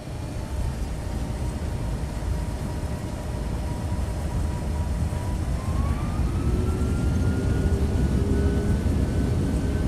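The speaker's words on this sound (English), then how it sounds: "the aircraft thunders down the runway, nosing up into the clear and calm Florida evening" An American Airlines jet rolls down the runway for takeoff at a Florida airport on a calm evening, a steady loud engine roar filling the whole span with a rising whine near the end.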